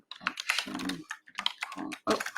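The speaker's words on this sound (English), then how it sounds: "So I might just type that in" A website address typed on a computer keyboard, fast bursts of close, crisp key clicks in uneven runs with short pauses between groups, and no talk over it.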